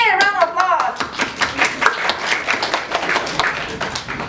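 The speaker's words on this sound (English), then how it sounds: "Yeah, round of applause." An audience at a talk breaks into a round of applause: dense, steady clapping from many hands close by, with a voice calling out over it at the start.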